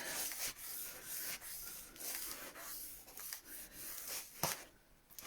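Soft, steady rubbing and scraping as glued paper is smoothed flat on a handmade mini memory album to push out air bubbles, close and quiet, with a few brief louder strokes and no talking.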